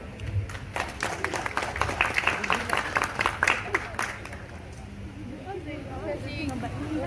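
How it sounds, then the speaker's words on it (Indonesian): Audience applause for a Gambyong Pangku dance by the GTM Blitar dance studio, a burst of scattered clapping for a few seconds that fades into murmuring crowd chatter and a voice. "Mari kita berikan aplaus yang meriah."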